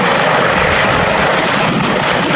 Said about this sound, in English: the helicopters have approached the target.